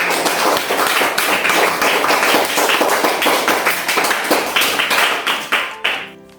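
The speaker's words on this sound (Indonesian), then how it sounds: "tepuk tangan untuk kelas 2" A classroom of Class 2 primary school children clap together in a loud, sustained patter that gradually slows into sparser, distinct claps at the end, with no voices over it.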